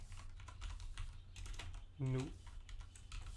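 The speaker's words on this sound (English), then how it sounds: "Typing and speaking, it's quite hard." Computer keyboard typing during a Unity coding tutorial, a steady patter of soft key clicks under a low background hum with a brief voiced burst midway.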